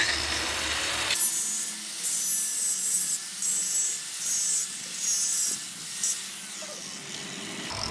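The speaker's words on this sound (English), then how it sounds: "Right now, just going to get a little bit of the rust off." Rust being rubbed off metal stock by hand before welding parts for an ocotillo-style bottle tree, a steady raspy scraping in repeated strokes, close and moderately loud with no talk.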